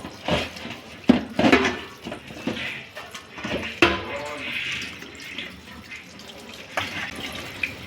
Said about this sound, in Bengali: এখন আমি সুন্দর করে চাউমিনটাকে ধুয়ে নেব।